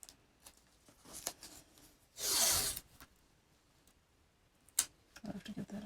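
Painter's tape pulled off the roll and pressed down along the edge of a denim quilt sandwich, a loud tearing burst mid-way amid soft scattered rustles and ticks, with a sharp click near the end.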